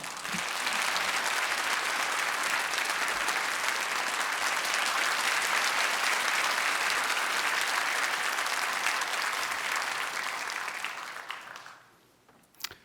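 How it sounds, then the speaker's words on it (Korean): A church congregation at a Wednesday service applauds loudly to welcome a missionary speaker: dense, sustained clapping that holds steady for about ten seconds, then tapers off quickly into near quiet. "강사님 나오실 때 우리 큰 박수로 또 하나님께 영광을 올려드리면서 박수로 모시도록 하겠습니다"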